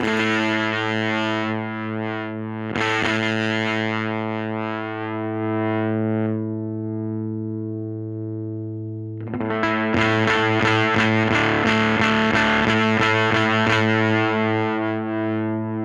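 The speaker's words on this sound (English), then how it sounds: "Let me start tweaking the bias control and let you hear what that does" An electric guitar runs through a Dr No Evil Motherfuzzer fuzz pedal with its bias control being adjusted: thick sustained fuzzy notes and chords, loud and close, shifting in texture, ending in a stretch of rapid, choppy strummed fuzz.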